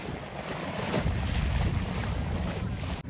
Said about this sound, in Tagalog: May bangkang dumaan.